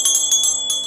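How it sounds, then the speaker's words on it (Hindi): Brass puja hand bell rung during a Dhanvantari worship ritual, giving bright metallic rings with quick repeated strokes, close and clear, with no talking. "घंटी नाद कर दीजिए, घंटी बजा दीजिए"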